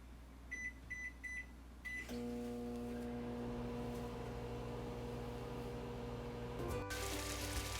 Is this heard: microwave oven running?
yes